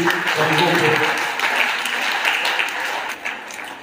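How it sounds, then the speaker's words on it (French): A church congregation applauds during a praise and worship service, with dense clapping and voices mixed in underneath, holding steady before easing slightly. "Applaudissez, applaudissez."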